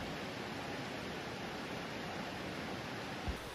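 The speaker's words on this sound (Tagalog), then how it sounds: "tsaka marinig niyo yung agos ng ilog" A river flows steadily beside a campsite, a broad, even rush of water that stays at a constant level from start to finish with no talk over it.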